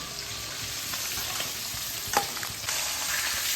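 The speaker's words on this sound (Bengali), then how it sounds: "মাছের মাথাটা ভাজা হচ্ছে" A hilsa fish head frying in hot oil gives a steady, close sizzle, broken by a few soft stirring knocks and a brief louder crackle partway through, with no talk.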